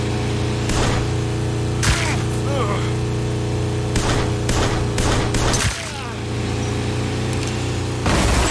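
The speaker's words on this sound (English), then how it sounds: "And I crash." A car crash in the Hell Road VR driving game: loud, repeated sharp impact bangs and booms over a constant engine drone, with a momentary dip before the racket resumes.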